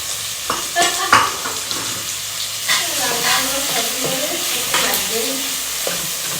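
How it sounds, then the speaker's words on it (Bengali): Potatoes frying in a pan with a loud, steady sizzle, stirring scrapes and clatter, and faint voices in the background. "এদিকে আলু ভাজা হচ্ছে"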